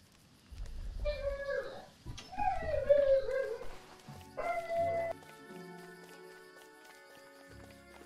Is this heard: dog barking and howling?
yes